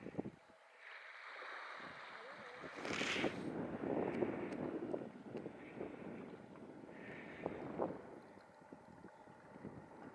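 Bitterly cold north wind buffeting the microphone on the Tiree shoreline, a steady rushing roar with gusty swells and no voices.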